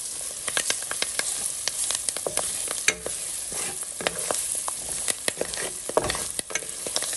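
Onion and garlic sizzling in a pot for Trinidad-style curry duck, a steady loud frying hiss broken by frequent scraping stirs of a spoon, close up with no talk.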